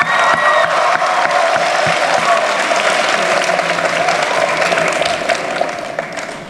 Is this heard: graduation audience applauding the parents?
yes